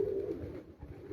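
A pigeon coos on a rooftop in Punjab: one soft, throaty coo, close by over quiet background noise.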